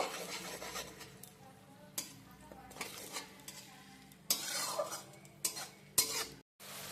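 Onion paste cooking in a pan over a medium flame for a katla fish kalia, with a low steady sizzle under repeated scraping stirs of a spoon against the pan, plus a few sharper clinks near the end.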